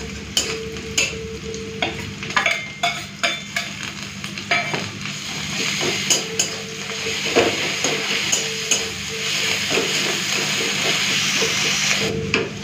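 Chopped onion browned in oil with ginger-garlic paste, stirred in a pan: a steady close sizzle with repeated rhythmic scrapes of the spoon against the pan throughout, and no voices.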